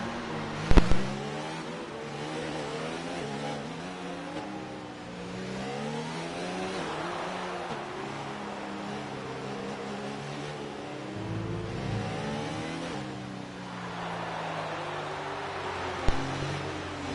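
Race cars in a racing video game run at the Hungary circuit behind the safety car, engines droning steadily with wavering, rising and falling pitch as they lap, plus a couple of brief knocks.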